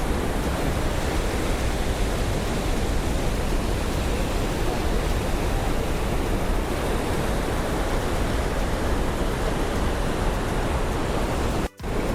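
Water gushing hard through the open gates of a dam at Kondapochamma Sagar, heard as a loud, steady, unbroken roar of rushing spray that fills the scene, with a very brief dropout near the end and no voices.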